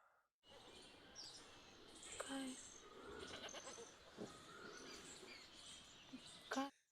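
Goat bleating in a film scene, a couple of wavering bleats near the start and end, mixed with birdsong, movie sound and indistinct voices.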